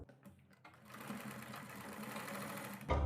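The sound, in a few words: sewing machine stitching buckram to a boat neck kurti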